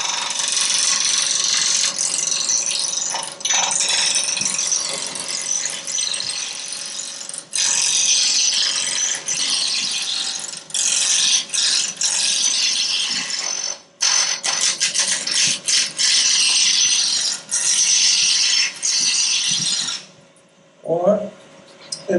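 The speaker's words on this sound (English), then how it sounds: "take this down to round. You can do that with a roughing gouge" A roughing gouge cuts a spinning wood blank down to round on a lathe at a woodturning club demo, a loud, steady broadband scraping hiss that runs almost unbroken, with a few short pauses near the end.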